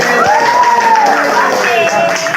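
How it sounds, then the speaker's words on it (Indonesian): Students cheer, shout and clap together in a high school classroom after a poster presentation, a loud lively crowd with voices rising over the applause. "tepuk tangan"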